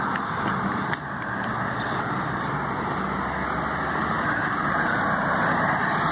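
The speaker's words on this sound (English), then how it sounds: "What's up, cars? Just driving by me." Cars driving past on a road while walking home, a continuous broadband roar of traffic and tire noise, fairly close and steady, with a brief dip partway through and no talking.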